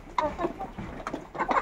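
A hen clucks in a backyard poultry run, with several short, throaty clucks in an uneven rhythm close by and a faint murmur of other fowl.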